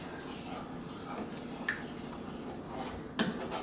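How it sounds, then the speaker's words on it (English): Chipped beef simmering in a pan is stirred with a utensil, giving soft scraping and a couple of sharper clinks against the pan over a low steady background. "Okay, and we'll stir this in."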